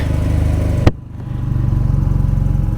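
A BMW R nineT Scrambler motorcycle engine pulses loudly and close while riding, with a sharp burst and a brief dip in revs before the steady throbbing returns; no voices.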